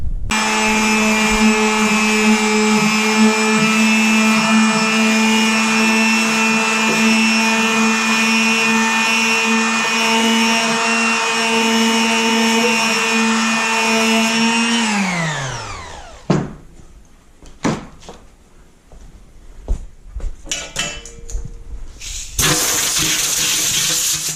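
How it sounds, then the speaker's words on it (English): A loud electric sander on metal exhaust headers whines at a steady pitch for a long stretch, then spins down; afterward come scattered scrapes and knocks, ending with a brief burst of hiss. "So we're gonna try sanding it with the electric sander."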